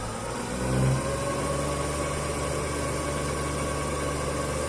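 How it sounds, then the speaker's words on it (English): A three-phase synchronous motor starts up with a brief swell, then runs at a steady, close-range hum with strong low tones and a broadband whir, with no speech. "So now I am applying voltage to this motor. Now just look there. The motor is started."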